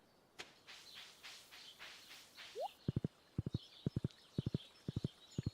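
Horse hooves clip-clop in the farming video game Stardew Valley, a steady run of crisp, close double and triple hoofbeats following a few softer earlier sounds, with no talking.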